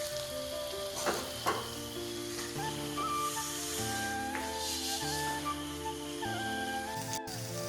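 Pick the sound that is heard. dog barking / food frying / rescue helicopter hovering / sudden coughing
food frying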